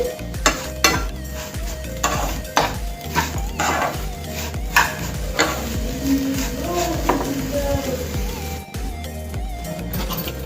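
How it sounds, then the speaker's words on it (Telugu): Coconut laddu mixture with sugar stirred in a non-stick pan: close, repeated scraping and clacking of a spoon against the pan with a soft sizzle underneath, heard alone without talk. "చక్కెర వేసుకొని ఇదంతా కలిపేసుకోవాలండి"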